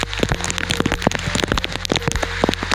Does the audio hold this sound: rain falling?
yes